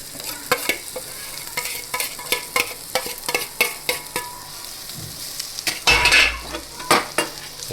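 A spoon repeatedly scrapes and knocks through mashed peas in a frying pan while making matar rolls, a rhythmic series of close utensil clicks over a low sizzle, with one louder sizzling stir near the end.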